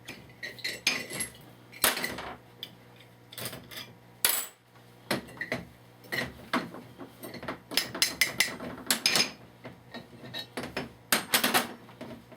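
Metal bolts are taken out of a Model T babbitt bearing cap mold, giving irregular clinks, taps and clanks of tools and metal parts over a quiet background with no talking.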